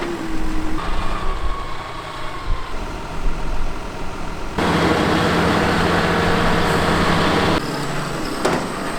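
A John Deere tractor hauling a load on a farm runs steadily throughout, its engine a continuous drone that suddenly grows louder and brighter for several seconds as it passes close, then eases back.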